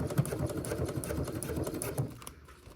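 A sewing machine topstitches a small tube-shaped clear vinyl phone pouch, running in a steady, close mechanical patter of stitches that carries on continuously before easing off near the end.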